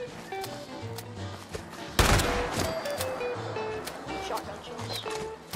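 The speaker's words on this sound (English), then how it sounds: "Shotgun shots." Shotgun blasts in the video game Fallout 76, a few sharp bangs scattered through the stretch with one loud blast near the middle, set against game background noise and faint talk.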